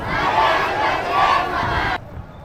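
Large crowd of protesters at a tribal march in Nashik, a loud roar of massed voices and shouting that cuts off abruptly near the end, leaving quieter background noise.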